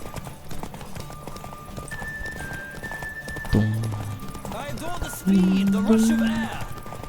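Horse hooves clip-clop at a gallop in The Witcher 3, steady and fairly close, with a horse neighing and a louder game sound near the end while someone talks over it.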